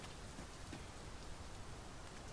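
Heavy rain pours steadily in Dragon's Dogma 2, a dense, even downpour filling the scene with continuous hiss, close and loud throughout with no voices.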